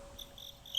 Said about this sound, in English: Our cricket special guest has wandered off.